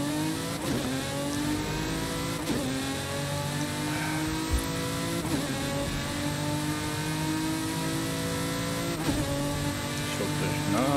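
In Forza Horizon 5, a 1997 Lamborghini Diablo SV screams down a speed-trap run through traffic, its engine note climbing repeatedly through gear changes in a continuous, steady roar.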